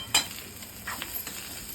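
Schezwan rice masala sautés in a pan, giving a quiet, low-level sizzle. One sharp stir or clink of the utensil stands out near the start, with a few softer scrapes after it.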